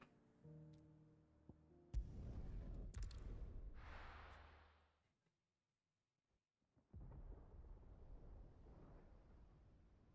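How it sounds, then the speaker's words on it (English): Thunder in Final Fantasy XVI, a deep rumbling roll that swells, fades to near silence, then returns as a second low, sustained rumble, fairly faint overall. "Sounds like thunder."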